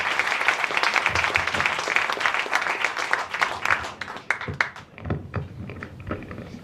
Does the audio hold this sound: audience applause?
yes